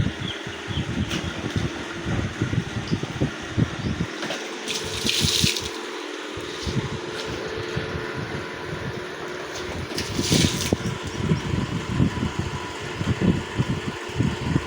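Water splashing and pouring as children bathe in 48-degree heat in Chishtian, a steady wet sloshing with bursts of spill and a continuous fan-like hiss behind it, close and fairly loud, no talk.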